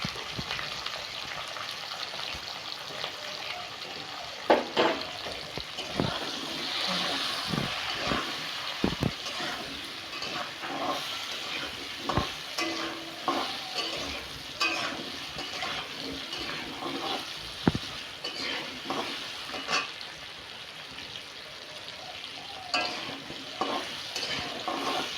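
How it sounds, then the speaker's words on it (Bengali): Potatoes frying in oil with salt and turmeric, a continuous close sizzle broken by repeated scraping and stirring strokes of a spatula in the pan, with occasional sharper clacks. "সামান্য একটু লবণ হলুদ দিয়ে আলুটাকে ভাজতে হবে। আলুটাকেও লাল লাল করে ভেজে নিতে হবে।"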